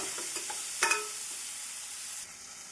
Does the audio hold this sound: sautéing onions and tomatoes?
yes